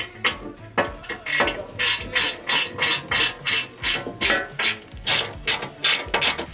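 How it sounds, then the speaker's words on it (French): A Torx key tightens bolts on an engine protection plate for a Mercedes Sprinter, making a loud, close run of rapid ratchet clicks in regular bursts. "on vient tout serrer avec une clé Torx 240"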